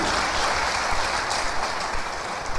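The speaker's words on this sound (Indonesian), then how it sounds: "Kasih tepuk tangan dulu untuk Bapak Yahweh." A church audience claps together in a dense, continuous burst of applause that stays loud and even for a few seconds, with no talking over it.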